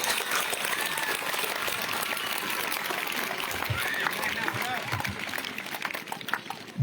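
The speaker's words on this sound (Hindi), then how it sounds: "तालियां बजाएंगे, तालियां बजाएंगे।" A crowd at an International Yoga Day 2023 session claps together in a dense, sustained round, with voices mixed in and the clapping thinning near the end.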